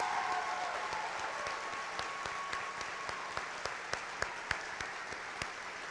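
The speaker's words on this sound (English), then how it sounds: "Let's give them one more big hand of applause." Applause for the graduating class of 2023 at a high school honors night: a steady wash of crowd clapping that thins toward the end, leaving a few louder individual claps standing out.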